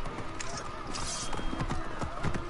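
Rapid clip-clopping hoofbeats from a galloping horse over a dense, busy game soundscape with music and effects.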